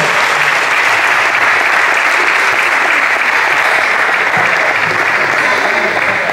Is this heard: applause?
yes